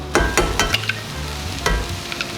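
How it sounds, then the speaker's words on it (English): Egg mixture seasoned with smoked paprika and parsley is spread evenly across the bottom of a frying pan, with a steady close sizzle under several short scraping and stirring strokes. "I'm gonna spread this mixture on the bottom of the pan really evenly."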